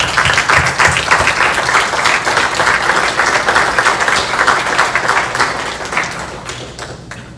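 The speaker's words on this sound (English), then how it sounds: "So I give a round of applause for our employees" Sustained applause at a board of trustees meeting in honor of the employees, dense steady clapping from a room full of people that carries on for several seconds before tapering off at the end.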